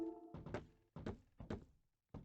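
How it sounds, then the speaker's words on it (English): Blocks being crafted in Minecraft give a few short hollow wooden thunks in quick succession. They are close and quiet, with no talking. "I love the sound that it makes when you're sitting there. When you're crafting these blocks."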